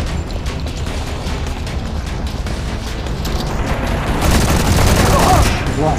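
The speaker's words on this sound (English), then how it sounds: "Firing on the enemy!" Sustained heavy gunfire in the Modern Combat 4 Zero Hour mobile shooter, with dense overlapping bursts and booms that grow louder toward the end, and voices faintly mixed in.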